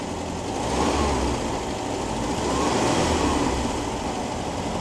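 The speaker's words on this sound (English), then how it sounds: "I'd like to see if our timing advances when I rev it up." A 1973 VW Squareback Type 3 engine revs up twice, rising and settling back to idle in two broad swells, close and steady, with no talking.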